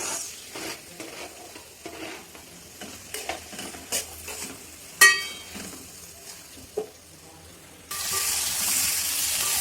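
Chopped tomatoes with turmeric being stirred in a pan while cooking chicken curry: scattered scrapes and clinks of a utensil, then a loud, steady sizzle of frying rises and holds at the end.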